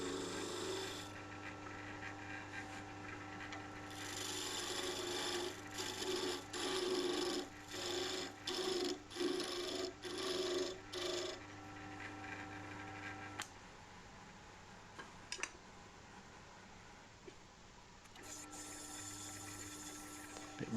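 A wooden bird spinning on a woodturning lathe is sanded, a close, rasping scratch in a run of rhythmic strokes over the lathe's steady hum, which later fades to quieter motor noise with faint knocks.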